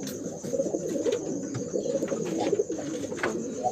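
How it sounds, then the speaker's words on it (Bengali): Racing pigeons coo close by in a steady, overlapping murmur while being given water before release for a tournament flight, with a few faint clicks mixed in. "সোমনাথ দার বাড়ির পায়রা ছাড়ার আগে দাদা পাড়াদেরকে জল খাওয়াচ্ছেন"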